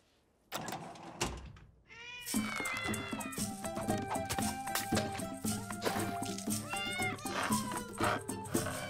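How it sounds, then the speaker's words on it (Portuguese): Several kittens in a cartoon meow in a continuous overlapping chorus of high, insistent cries, close and fairly loud after a brief thump at the start. "É primavera, ou seja, temporada de gatos."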